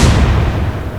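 A naval gun fires in the Atlantic Fleet sea battle game, one heavy, booming blast that fills the moment and then rolls off into a low, rumbling decay.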